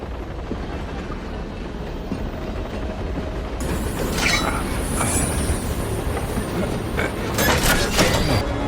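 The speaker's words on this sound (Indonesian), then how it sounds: "Yegor yang sadar kalau situasinya makin kacau, langsung memutuskan sambungan gerbong Atami biar keretanya nggak bisa mengejar ke depan" A train carriage uncoupled in a film scene: a rumbling rail roll with clattering wheels and metallic squeals and clanks growing louder in the second half, heard without speech.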